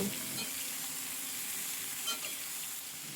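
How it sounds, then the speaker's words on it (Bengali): Potatoes and sliced ridge gourd fry in a pan and are stirred, giving a faint continuous sizzle with a few soft scraping stirs. "আলু ঝিঙেগুলো ভালোভাবে মিশিয়ে নেব।"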